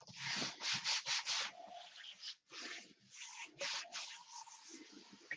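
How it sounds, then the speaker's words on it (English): A magazine transfer being rubbed firmly onto paper for a monoprint, irregular bursts of soft scraping and rustling with brief pauses, close and faint. "I'm going to rub this on really, really firmly"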